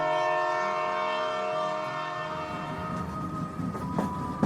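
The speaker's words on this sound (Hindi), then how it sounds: "ट्रेन चल पड़ी।" A train pulls away as a sound effect, opening with a long sustained horn tone that fades into rising rumble and clatter of the cars beginning to roll.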